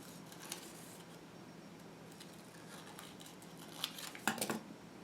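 Scissors snip through paper while cutting out small half circles, a few soft crisp cuts clustered near the end of a quiet stretch, close and fairly faint.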